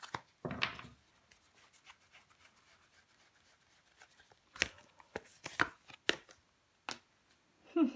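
Tarot cards are handled and laid down on a surface, giving soft, scattered taps, slides and rustles that stay faint and close, with a few sharper flicks toward the end.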